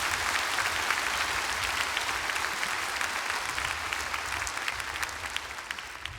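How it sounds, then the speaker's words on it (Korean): Sustained applause from a church congregation during an autumn special dawn revival service, a dense, steady wash of many hands clapping with no talk over it. "우리 저 청소년들에게 힘내라고 하나님의 위로와 격려의 박수를 부탁드리겠습니다."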